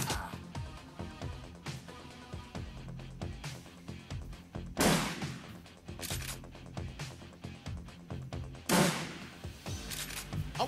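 Loud shotgun blasts from the video game Shadowrun Returns, with two big booming bursts standing out over constant busy combat sounds and music.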